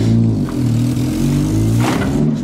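A passenger car's engine revs hard and steadily while straining to pull out a tree stump, the drone rising and holding close and loud, with a brief rough surge near the end.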